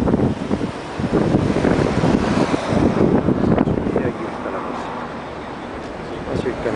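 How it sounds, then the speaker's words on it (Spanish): Wind gusts by the River Thames at dusk, buffeting the microphone in a loud, rough broadband roar with a lull partway through, alongside a faint wash of water. "Hay un poco de viento"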